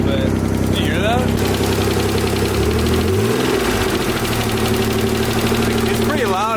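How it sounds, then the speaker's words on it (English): Nissan 300ZX engine idling with a suspected exhaust leak and possible knock, a loud, steady rumble whose pitch dips and settles midway, with people talking over it throughout. "Dude, it kind of sounds like it's knocking a little bit."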